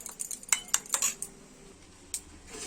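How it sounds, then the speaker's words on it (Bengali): A spoon beats eggs seasoned with salt and turmeric in a bowl, giving a quick run of sharp metallic clinks that thins to a single tap and quiet, with no talking. "ডিমটাকে ফেটিয়ে নেব।"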